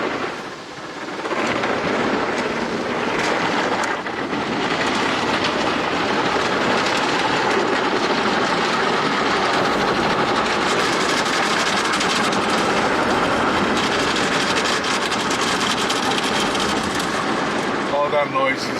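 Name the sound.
car wash brushes washing the car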